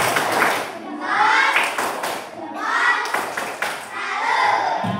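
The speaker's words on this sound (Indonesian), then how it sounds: "Oke, tepuk salut" A classroom of students performs a rhythmic salute clap, with sharp bursts of claps at intervals mixed with children's chanting voices, fairly close and lively.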